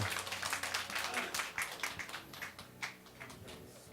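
A church congregation at a harvest thanksgiving service claps in sustained applause. The irregular, moderately loud handclaps run through the whole stretch, with a voice speaking faintly underneath.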